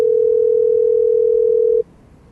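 A single steady telephone tone sounds loud and clear, holding one pitch for nearly two seconds before cutting off abruptly into faint background hiss.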